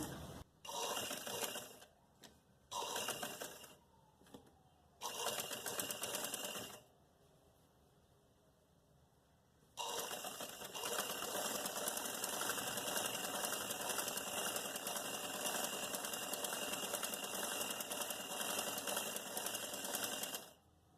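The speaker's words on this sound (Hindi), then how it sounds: "एक इंच का मार्जिन रख के हम फिटिंग की सिलाई कर रहे हैं।" A sewing machine stitches the fitting seam of capri trousers with a one-inch margin, running in several short bursts separated by pauses, then in one long continuous run, close and loud.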